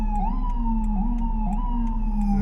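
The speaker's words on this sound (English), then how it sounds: "So here we have is the ambulance that just came by." An ambulance siren wailing nearby, a loud, steady two-tone wail with regular pitch shifts and repeating short clicks over a low traffic rumble, with no voices.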